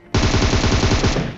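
A rapid burst of automatic gunfire in a battle royale video game, about a dozen sharp close shots fired in quick succession, loud and alone.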